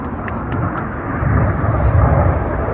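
A Royal Air Force Red Arrows jet makes a low, fast pass at the 75th-anniversary Canadian International Air Show, a broad roaring rush that swells and fades, with faint crowd noise in the background.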